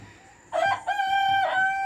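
A rooster crows in an outdoor pen, a single loud, clear call with a rising opening and a long sustained harmonic note, close by over quiet background.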